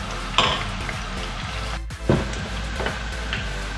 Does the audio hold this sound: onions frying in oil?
yes